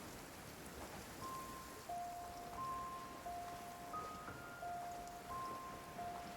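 Downpour rain in the video game Genshin Impact, a dense steady hiss of falling rain with light gentle musical notes drifting over it, even and unbroken with no one talking.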